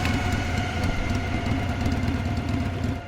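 A motorcycle engine drones continuously and loudly nearby during a pursuit through the streets, a steady low rumble with no break and no voices over it.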